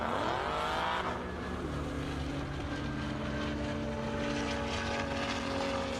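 A Mercedes-AMG car launches off the line with launch control at an airstrip drag racing event, its engine roaring loudly and then fading as it pulls away into the distance, with a steady tonal whine lingering.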